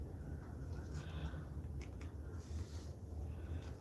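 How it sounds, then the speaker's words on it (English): Steady low wind rumble buffets the microphone, a constant roaring gust with no voices. "It's super windy."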